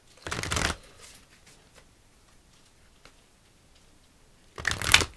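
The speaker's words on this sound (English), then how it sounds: "let's do two more shuffles" Two bursts of tarot card shuffling, a brisk riffle at the start and another at the end, with near silence in between.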